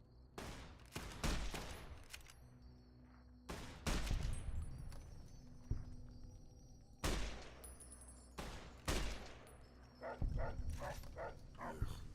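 Rapid bursts of gunfire in Fallout: New Vegas as companion Milo shoots at Legion troops, loud volleys repeating in clusters over about twelve seconds, with short gaps and some fainter crackling between.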